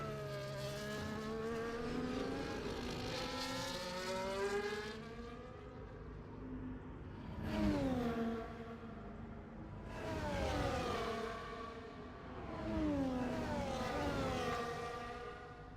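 Race cars, including a McLaren and a Mercedes-Benz, in a video game race, with loud engines whining and rising in pitch as they pass in repeated surges, no voices.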